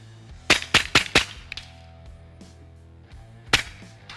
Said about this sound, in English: we're hitting an 8-inch plate at 100 yards with this gun